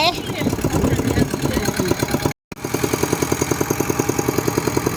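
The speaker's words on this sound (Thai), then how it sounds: "ขี่รถไถ" A tractor engine chugs with a steady rapid knocking beat, briefly cutting out midway, then thumping on evenly.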